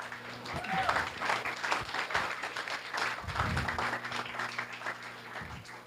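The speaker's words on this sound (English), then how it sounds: "So how about a round of applause for all of you guys for coming?" Audience applause for participants at a startup pitch session, a modest clapping wash in a room with some voices and crowd murmur mixed in, holding fairly steady throughout.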